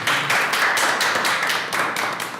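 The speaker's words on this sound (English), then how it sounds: "That's why we're clapping twice." Attendees at an affordable housing advisory committee meeting clap together, a loud close round of dense claps with a few sharper accents, fading slightly toward the end.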